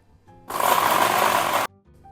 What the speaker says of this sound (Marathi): पण हे मिश्रण पूर्णपणे बारीक करून घेणार नाही तर पल्स मोडवर थोडं जाडसरच ठेवणार आहोत